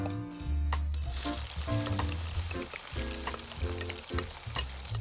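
Chopped pork fat frying in a pan for a carrot frit, giving a soft crackling sizzle with scattered pops and clatter from stirring, fairly faint and without voices.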